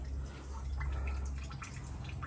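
Coolant draining out of a Valiant VH Charger radiator during a water pump job, a soft, steady trickle and drip running continuously at low level, fairly faint and alone.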